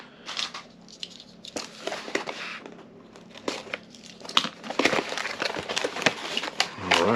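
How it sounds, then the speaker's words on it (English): A packaging box for an MJX Hyper Go H16PL mini buggy is cut open, giving close crinkling, tearing and scraping noises in irregular bursts. "Get this thing cut open."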